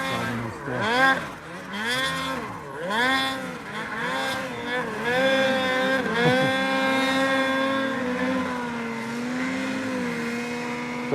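Turbocharged snowmobile engine revving hard as the sled climbs a steep snowy slope in avalanche terrain, a loud, continuous, wavering whine that rises and falls in pitch before holding a steady high drone.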